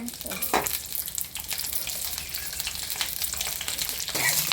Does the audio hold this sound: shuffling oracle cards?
no